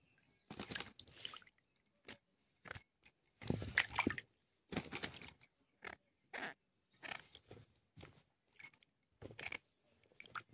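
Carrots, tomatoes and other vegetables washed by hand in water, with irregular close-up bursts of splashing, sloshing and wet squishing separated by brief pauses, moderately loud and with no talking.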